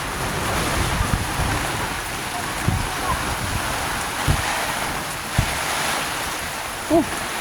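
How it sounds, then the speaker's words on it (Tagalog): Strong wind roars steadily, rushing like surf, with occasional low buffeting thumps; a voice is faintly heard at one point. "Nagtabon ko sa piloder karon, perting kusugang hangin."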